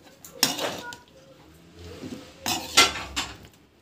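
A spoon clinks and scrapes against a metal pot while lemon rice is mixed, giving two or three distinct bursts of stirring with quieter gaps between.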